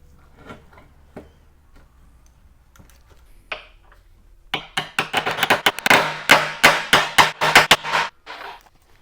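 Rapid series of sharp metallic knocks, hammer blows driving a pin into a Jeep in quick bursts, loud and close, after a quieter stretch of small handling noises.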